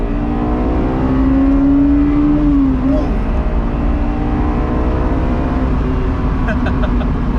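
A Honda S2000 engine revs loudly, its pitch climbing steeply to a high wail as VTEC engages, then dropping and continuing to pull at a lower droning note.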